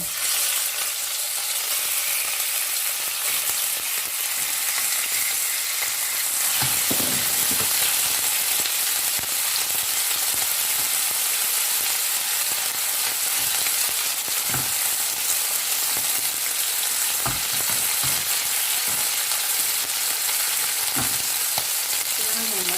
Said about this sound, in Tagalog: So, ilagay na natin ang ating mga chicken.